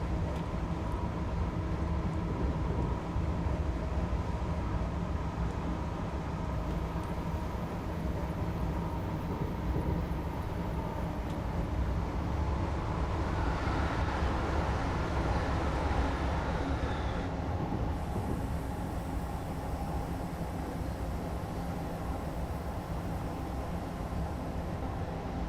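An Acela Express train on the Northeast Corridor in Train Simulator 2018 coasts down toward 35 mph, making a steady, continuous low rumble and hum with a faint brighter whine rising briefly midway and no talk.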